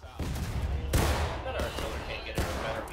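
Musket volley gunfire in War of Rights, the Antietam battle, loud ragged bursts of rifle fire crackling in overlapping waves, with a heavy thump near the middle and faint voices underneath.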